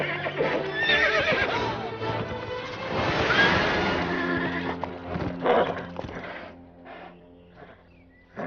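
A horse whinnies loudly and at length, followed by hooves clopping and a few snorts, with no talking.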